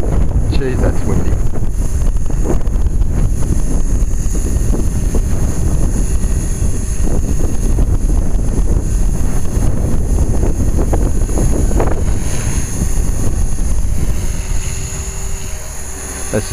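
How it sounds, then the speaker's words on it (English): Strong gusts battering an outdoor microphone at a model helicopter flying session, a loud constant low roar and buffeting throughout with a faint whine beneath and voices briefly audible. "Jeez, that's windy."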